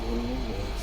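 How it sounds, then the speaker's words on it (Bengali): A minibus engine revs in a short, steady burst with a rising tone, close and fairly loud, with no talk over it. "মিনি বাসটা"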